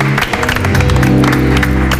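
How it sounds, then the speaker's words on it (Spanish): Studio audience on a breakfast talk show applauding to welcome guests, brisk clapping mixed with music playing underneath, loud and close for a couple of seconds. "un aplauso, por favor"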